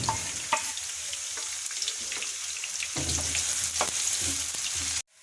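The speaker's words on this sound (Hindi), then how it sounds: "और ये प्याज हैं जो हमने बारीक अपना काट लिए थे, और अब प्याज जाएंगे घी के अंदर।" Finely chopped onions fry in desi ghee, a loud, dense, continuous sizzle close up, with small stirring clicks and a jump in intensity midway before the sound cuts off abruptly.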